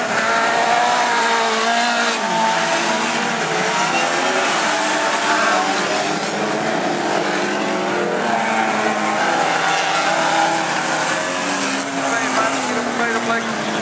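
Race cars speed through a bend at an autocross rodeo in St. Maarten, with engines revving and tires squealing in a continuous loud roar while a commentator talks over it.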